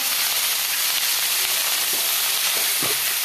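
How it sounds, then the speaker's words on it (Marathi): Fenugreek leaves fry in a pan with a constant bright sizzle, as a few dull scraping stirs push through near the end; close-up and unbroken, with no talking. "मेथीच्या भाजीला छान हलवून घ्यायचं"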